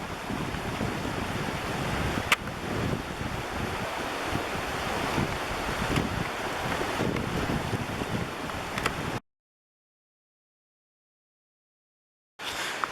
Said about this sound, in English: Alright, so we're right here at the falls.